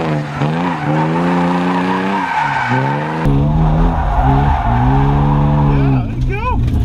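Nissan Skyline R32 GT-R tires squealing and skidding while drifting, a loud sustained screech that rises and falls with the engine revving hard close by, with people talking over it throughout.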